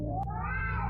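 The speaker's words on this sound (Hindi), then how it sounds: "बीच रात हमें बहुत जोर से 2 बिल्लियों के लड़ने की आवाज आई।" Two cats fighting at night let out a loud, drawn-out yowl that rises and wavers, close and harsh, with a brief thump near the start and no talk.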